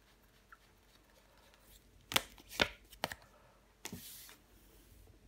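Tarot cards are laid onto a table in a quiet room, with a few close, crisp slaps and soft shuffling clicks in two brief clusters.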